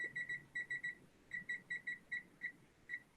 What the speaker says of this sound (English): So I set my timer for 18 minutes.